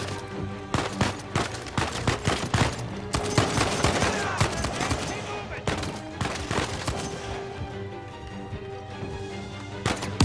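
Rapid bursts of gunfire in the Uncharted 4 video game, loud repeated shots and volleys over a game soundtrack, with a person talking excitedly over the action.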